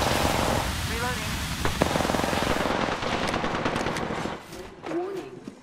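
Rapid gunfire bursts in a shooter video game during a team firefight, loud and dense through the first half, then thinning into scattered shots as game voices and squad callouts talk over it.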